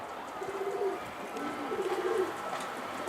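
Soft, low pigeon cooing repeats a few times against a quiet outdoor background, with no talking.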